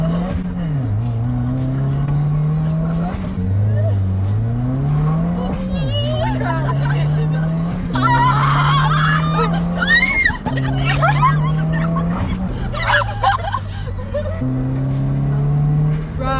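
A Subaru launching hard and accelerating, engine note climbing and dropping through several gear changes, loud and close with tire noise, while people react excitedly over it.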